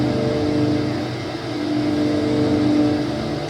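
Steady aircraft engine drone in a flight simulator as the RPM is brought back for a cruise climb, a continuous mid-pitched hum that eases slightly in loudness, heard alone.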